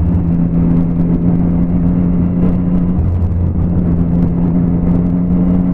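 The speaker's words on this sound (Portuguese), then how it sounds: "Tem muita moto, meus jovens amigos. Tem muita moto." Motorcycle engines from a large group ride of more than 800 bikes organised by BOPE police between Curitiba and Lapa, a steady loud engine drone with shifting rev tones throughout.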